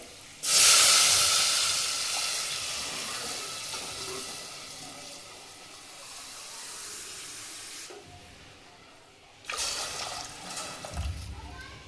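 A sharp burst of sizzling hiss as water hits a hot pan of cumin, garlic and turmeric, slowly fading to a steady simmer, then a second splashing pour near the end.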